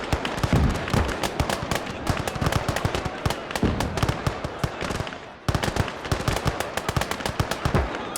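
Artillery and rifle fire from an Isonzo battle game, with Italian Alpini fighting Hungarians, forms a dense, continuous barrage of booms and sharp cracks. It runs close and loud, broken by a brief lull near the middle.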